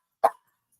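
A single short dog bark, close and fairly loud, followed by near silence.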